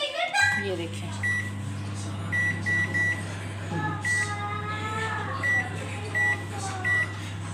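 A kitchen oven's timer beeps in short repeated bleeps as the baking time is set for a vanilla sponge cake, over a steady low hum from the running appliance.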